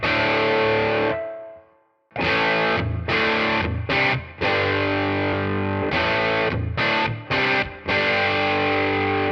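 A distorted electric guitar tone model played through a Tonex pedal, with sustained overdriven chords and short rhythmic stabs separated by brief gaps, loud and alone.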